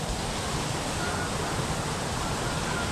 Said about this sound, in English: We've got a waterfall there.